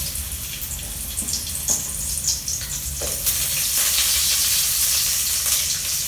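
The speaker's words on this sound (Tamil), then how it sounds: "எண்ணெய் காஞ்சதுமே நம்ம கட் பண்ணி வச்ச பிரண்டை இருக்குது பார்த்தீங்களா, நார் உரித்த இதை வந்து அப்படியே போட்டுக்கலாம்" Cut pirandai (adamant creeper) stems frying in hot oil, a loud steady sizzle with bursts of crackle and stirring scrapes throughout, no voices.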